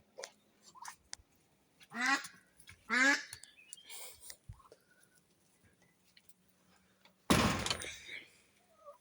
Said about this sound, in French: Regardez, ils arrivent tous, les canards là.